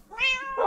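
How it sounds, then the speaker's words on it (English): A cat in Minecraft gives one short, clear meow, rising and then falling, close and alone. "What's up, cat?"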